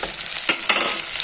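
Spice paste is stirred into a frying mango and tuna curry in a pan, with continuous loud sizzling and a couple of scraping strokes of the spoon close up.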